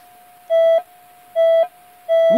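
A Minelab E-TRAC metal detector responds to a silver signet ring with three identical, clear, loud electronic beeps, evenly spaced and each lasting about a third of a second, over a faint background.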